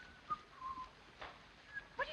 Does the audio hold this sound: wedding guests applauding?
no